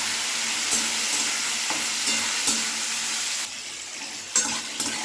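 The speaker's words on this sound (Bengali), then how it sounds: "এবার নাড়াচাড়া করে নেব।" Chickpeas frying with turmeric and salt being stirred in a pan, a steady close sizzle with repeated scraping strokes of the spoon, no voices.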